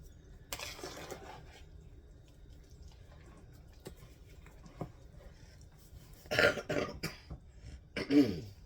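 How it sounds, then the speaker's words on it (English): A couple of short coughs, one early and a burst of two or three near the end, with faint clicks and quiet room noise between. "I turned my head and coughed into my bib here."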